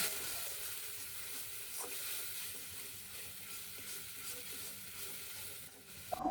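Spice paste of ground spices mixed with a little water sizzles softly and steadily in a hot pan, with a faint scrape of stirring near the end.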